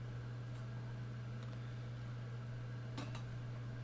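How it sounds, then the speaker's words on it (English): A hair dryer runs with a steady low whirring hum, blowing on a foam Face Hugger prop during a live foam-crafting session, with faint clicks and handling noises but no talk. "get the hair dryer on this guy real quick"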